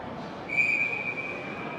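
A referee's whistle blows once at a youth 16U versus 18U ice hockey game, a single shrill sustained blast of under a second over the steady murmur of the rink.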